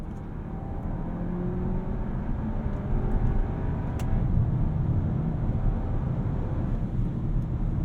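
A 2024 VW Arteon engine drones low and steady from inside the cabin while driving, with a constant road and wind rumble and only slight shifts in pitch as gears change.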